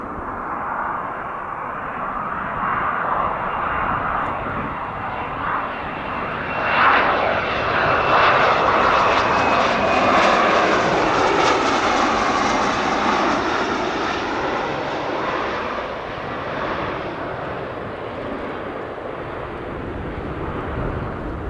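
A general aviation or business jet aircraft engine roars steadily at Spirit of St. Louis Airport, swelling louder mid-clip as the plane takes off or lands nearby, then easing off, with no voices.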